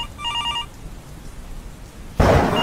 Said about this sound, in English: the thunder is going crazy